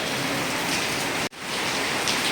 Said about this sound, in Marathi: जाम पाऊस आहे नाही वियान पाऊस आहे भरपूर